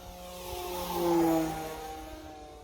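A small electric RC model plane, an E-flite T-28 Trojan, whines in on a full-speed pass, rising to a loud pass with a pitch drop, then fades into the distance.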